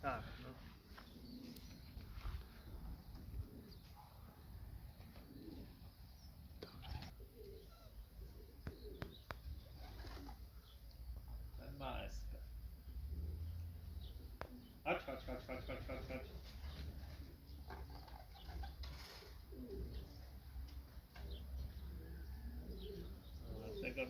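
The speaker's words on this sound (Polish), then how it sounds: "A gołębie nie wiem, czy mówiłem, raz z lewej, raz z prawej lecą, nie?" Racing pigeons coo softly in the background while people talk nearby, with occasional faint chirps and light rustling throughout.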